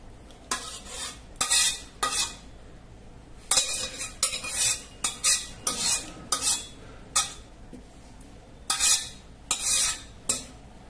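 A spoon scrapes and clinks against a pot and bowl while brinjal tomato bajji curry is served, in a series of short, bright, uneven strokes with brief pauses between them, close by and without talk.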